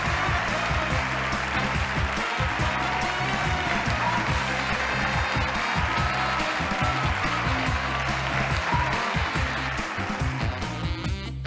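Studio crowd applause in the Wheel of Fortune game for Nintendo Switch, a steady dense wash of clapping that runs the whole stretch under bright game show music.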